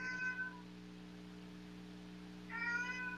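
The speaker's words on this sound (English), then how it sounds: "while I get my cat out of the room" A house cat meows indoors, two short, fairly faint cries separated by a quiet pause.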